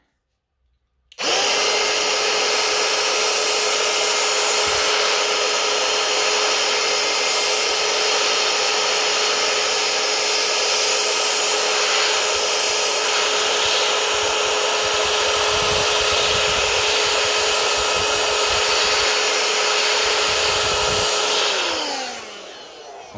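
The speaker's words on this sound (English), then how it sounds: "And now with this blower again" An air blower blasts dust off 1:18 scale model cars in a loud, continuous rushing hiss with a steady motor whine, running for about twenty seconds before spinning down.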